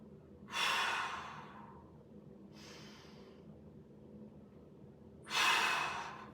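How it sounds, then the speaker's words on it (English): Deep, slow breathing during a mobility exercise, with two loud close exhales and a softer inhale between them, each breath drawn out over about a second with quiet pauses. "2 more big breaths."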